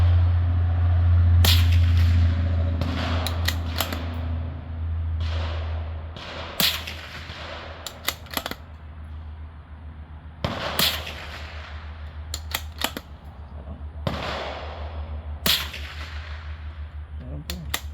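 A suppressed Rock Island Armory M14Y bolt-action rifle fires a series of sharp, cracking shots outdoors, spaced a few seconds apart with bolt-cycling clatter between them, following a brief low rumble at the start.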